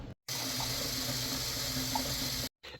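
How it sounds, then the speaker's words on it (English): Water runs steadily from a tap into a container, a continuous close rushing fill that starts and stops abruptly. "and then that's going to be filled with water."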